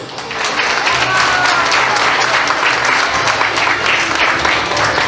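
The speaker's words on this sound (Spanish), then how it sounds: "Para ellos, demos muy fuertes aplausos." Wedding guests applaud loudly and steadily at a reception, a dense wash of clapping from a large crowd that holds for the full length without pause.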